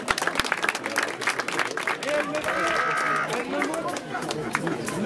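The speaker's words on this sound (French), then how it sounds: "avec la chorale de Chantal, ici présente, vous pouvez l'applaudir" Audience applause for a choir inside a church or chapel, a dense, steady wash of clapping lasting several seconds with crowd voices and chatter mixed through it.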